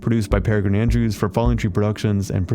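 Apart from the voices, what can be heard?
None of the usual background noises is heard.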